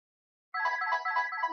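A phone ringtone plays alone after a half-second of silence, a steady synthetic melody of repeating tones at moderate loudness.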